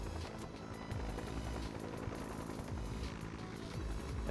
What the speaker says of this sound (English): this is a non-drop helicopter, which means it doesn't have a boost